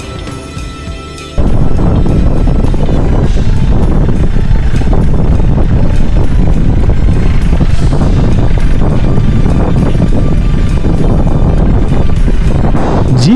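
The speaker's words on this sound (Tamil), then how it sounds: "இந்த இடத்துல காற்று பயங்கரமாக அடிக்குது." Strong wind buffets a hilltop forest viewpoint in Nelliampathi, Kerala, roaring loudly and continuously into the microphone after a brief quieter start, with no voices.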